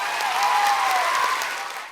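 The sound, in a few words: applause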